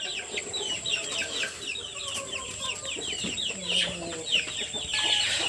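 Country chickens cluck in a flock around a farm coop, a busy chorus of close and distant clucks and chirps over a steady background hum.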